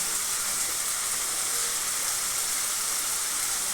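Ginger, garlic, tomato and onion fry in a pan for a spicy pabda fish curry, giving a continuous, close, even sizzle and hiss that stays steady throughout with no talking.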